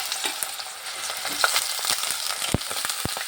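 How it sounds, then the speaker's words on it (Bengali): Eggplant frying in hot oil in a wok, a steady close crackling sizzle with a few sharp pops and spatters, no voices. "প্রথমে তেলের মধ্যে আমি বেগুনটা, যেহেতু নরম, বেগুনটা আগে একটু ভেজে নিচ্ছি।"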